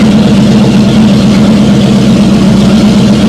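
Engine of a 1950 Fargo truck running steadily while the power steering is turned, a loud constant low rumble with an even droning hum and no pauses.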